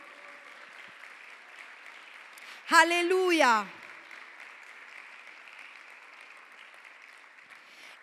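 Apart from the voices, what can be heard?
congregation applauding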